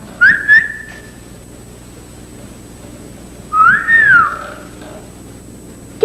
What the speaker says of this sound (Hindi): अकेली लड़की को देखकर सीटियां बजाते हो तुम?